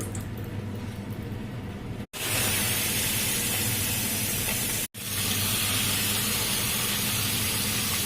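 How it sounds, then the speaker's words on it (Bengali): Rui fish pieces sizzle loudly in hot oil with black cumin, a steady dense hiss filling the whole clip, broken by two brief dropouts. "এখন এক এক করে মাছগুলোকে ছেড়ে দেব"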